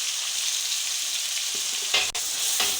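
Boneless chicken fries in a pan, destined for restaurant-style Chinese fried rice, with a constant hiss of sizzling oil and a couple of brief stirring scrapes near the end.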